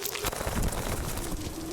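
Birds coo in the survival shooter Zero Sievert, a soft repeated call set against a dense, noisy game background.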